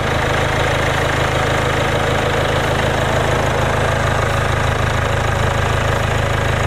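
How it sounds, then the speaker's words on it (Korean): The 2.0 TD4 diesel engine of a Land Rover Range Rover Evoque idles steadily and loudly up close, a constant rumbling drone with a faint knocking texture throughout. "엔진 소리 일정합니다."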